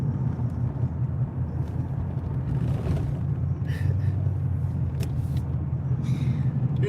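A car rolls past on a road with a steady, continuous low rumble of engine and tire noise, fairly close, with faint higher hiss on top and no voices.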